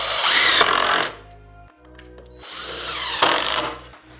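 A power drill drives 2.5-inch coated number 9 deck screws into cedar boards in two loud bursts, each about a second long, with a high whine and a grinding bite as the screw seats. Quiet handling noise fills the gap between them.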